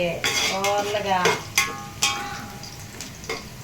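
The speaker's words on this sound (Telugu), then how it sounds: "తర్వాత వచ్చేసి టమాటాలు వేయాలి. బాగా వేయించుకోవాలి." Tomatoes frying in a pan for chicken biryani, with a spoon stirring and scraping against the pan, several sharp metallic knocks and a soft sizzle underneath.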